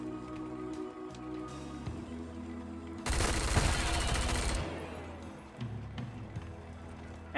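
Suppressing fire in the video game Wasteland 3 comes as a dense burst of rapid gunfire lasting about a second and a half over steady game background sounds.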